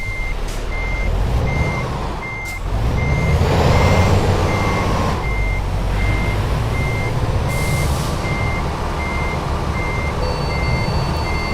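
Truck in Euro Truck Simulator 2 backing up, its reversing beeper pulsing steadily and loud over a constant low engine rumble, with a brief hiss partway through.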